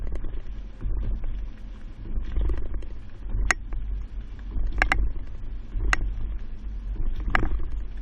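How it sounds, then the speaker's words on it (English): A 2021 vehicle carrying a Kuat NV 2.0 bike rack rolls over alternating speed bumps, giving a steady low road rumble broken by several sharp rattles and clanks from the rack at irregular intervals. "Now we're at the alternating speed bumps."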